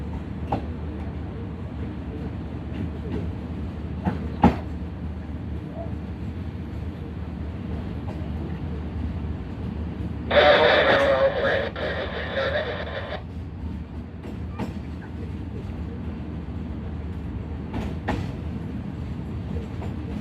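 A passenger train passes near Shahdara Junction, heard from on board as a continuous rumbling rail roar with scattered clacks, while a louder burst of wheel and track noise rises briefly partway through.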